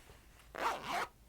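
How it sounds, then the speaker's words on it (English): A small zipper on the inside pocket of a plain-lined clutch purse is pulled in one quick, close, soft scratchy zip lasting about half a second. "Has another little zipper"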